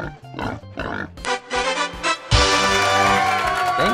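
A pig oinks in short close grunts, followed by a bright, loud burst of sound that carries to the end.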